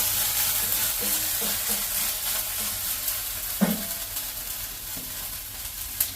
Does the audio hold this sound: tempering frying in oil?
yes